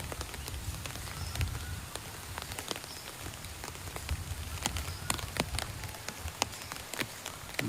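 Rain falls steadily outside, a dense even patter on surfaces punctuated by frequent sharp drop ticks, with no voices.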